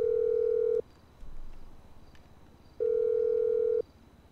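Ringback tone from a phone call to Tracy in the video game GTA 5: two long, steady, loud tones separated by a pause of about two seconds, with faint background noise between them.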